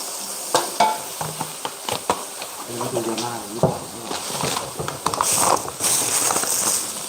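Glass noodle pad thai being stir-fried for sale in a home kitchen, with sizzling and scraping spatula strokes against the pan, irregular and close, under a voice talking.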